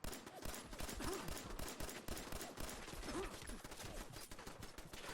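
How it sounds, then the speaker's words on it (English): Rapid bursts of gunfire from the video game Fallout 4, a dense, continuous string of shots with rattling automatic fire that fills the clip at a steady, moderate level. "Why did I shoot that?"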